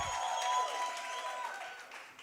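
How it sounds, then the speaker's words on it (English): Workshop and expo audience applause for a presenter: soft, diffuse clapping from a crowd, steady and fairly distant, lasting about two seconds, with a faint tone running underneath. "Can we please give him a huge round of applause, ladies and gents?"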